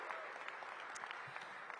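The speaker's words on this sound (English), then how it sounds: "Give them a round of applause." A crowd at an outdoor groundbreaking event for a new arena applauds the Washington Wizards players, a faint, dense wash of clapping heard from a distance.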